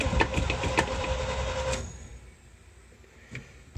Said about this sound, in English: I'm only doing this so you can hear the motor run.